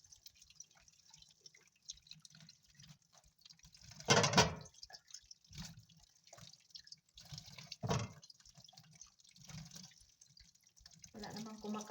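Apples rinsed under running tap water in a home kitchen, with splashing and dripping that come in uneven bursts. There are two louder gushes near the middle, and soft background sounds run between them.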